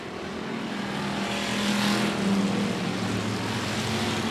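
Pure stock race cars roar around the 105 Speedway oval in a continuous engine drone that swells as the pack passes and then eases off.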